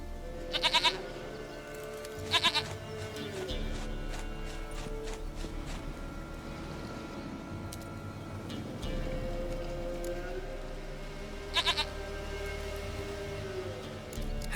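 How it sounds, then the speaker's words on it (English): A goat in The Witcher 3 gives a few short, distinct bleats spaced several seconds apart over a soft ambient game backdrop. "Goat of mine, dearest, sweetest goat."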